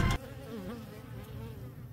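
Honeybees buzz steadily at a hive, a dense, continuous drone of many wings close by, with a brief louder burst at the very start and no talking.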